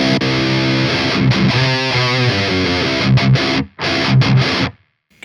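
An electric guitar played through a distorted Brunetti amplifier, loud sustained chords and a short riff with several brief choppy stops near the end, played alone without talk.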